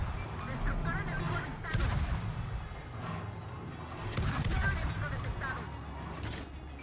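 Booming ship gun blasts from the Japanese destroyer Kitakaze in a naval battle game thud out at intervals, heavy and echoing, mixed with game sound effects and someone talking over them.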